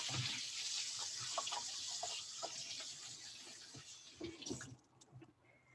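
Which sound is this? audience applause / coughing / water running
water running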